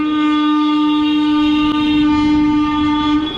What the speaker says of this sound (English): now the passenger train is coming